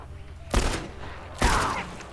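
Gunfire in the video game The Last of Us: two loud, sharp shots about a second apart, each with a booming low-end thump and a brief ringing tail.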